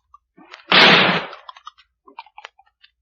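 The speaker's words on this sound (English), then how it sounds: "I'm going to shoot the top of it." A single loud, close gunshot from a radio drama, one sharp blast that decays over about half a second, followed by quiet small rustles and clicks.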